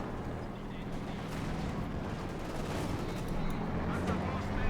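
Heavy mortar fire from a Soviet heavy mortar team in Company of Heroes 2 booms and thuds under continuous battlefield rumble, with blasts blending into a dense, steady wash of war noise.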